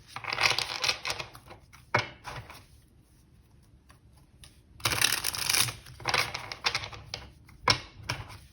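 A new tarot deck is shuffled by hand in close, crisp bursts of riffling and snapping cards, with quiet gaps between rounds and no talking.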